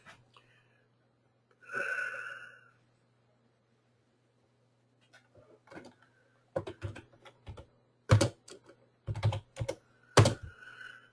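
Scattered bursts of clicky computer keyboard typing, close and fairly loud, in short irregular clusters after a brief breathy sound and long quiet stretches.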